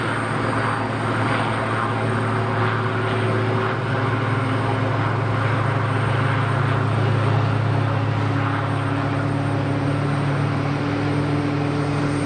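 A Pilatus PC-12 turboprop taxis at Geneva Airport, its engine and propeller giving a loud, steady droning hum with a constant tonal whine, continuous from start to end, no voices.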